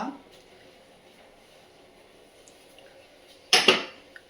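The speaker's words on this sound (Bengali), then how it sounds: "আর এখন যেগুলো সব ধুয়ে দিয়েছিলাম সকালে সেগুলো আবার এখন সব জায়গা মতো একটু গুছিয়ে নেব" Washed dishes being put away in a home kitchen: a quiet stretch, then a sudden loud clatter of dishes and cutlery knocking together near the end, close and brief.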